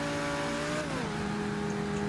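A car engine in GTA 5 revs steadily, its tone holding, then dropping in pitch about a second in as the motor eases off, a continuous droning hum with no voices.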